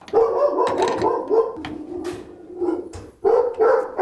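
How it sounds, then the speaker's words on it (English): A large guard dog barks several times in short bursts, close by and fairly loud, in an indoor setting during attic ladder repair work, with a brief gap before a final flurry of barks. "My big guard dog."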